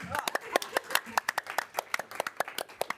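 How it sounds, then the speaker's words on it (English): A crowd claps steadily for a few seconds at a Wellington City Council committee meeting after a councillor's first speech, a brisk patter of many hands, fairly close and even. "when you make the first speech at council, you get a round of applause."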